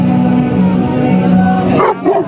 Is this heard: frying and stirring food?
no